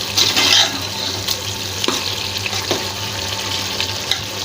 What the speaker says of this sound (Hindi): तो तेज चूल्हा कर लिया मैंने, अब इसको भून रही हूँ।